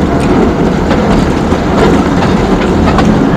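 Ooty toy train running on rails, a steady loud rumble with faint clattering that continues throughout.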